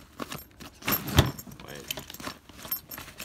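Metal zipper pulls on a feature-packed gun bag jangle and clink in quick rattling bursts, close and fairly loud, under light outdoor background noise and some talking.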